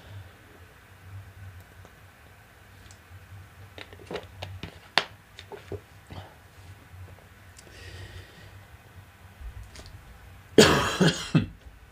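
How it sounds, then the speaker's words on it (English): A burst of harsh coughing near the end, preceded by scattered soft clicks and rustles in a quiet room; one person coughing several times in quick succession. "as you hear, still a cough"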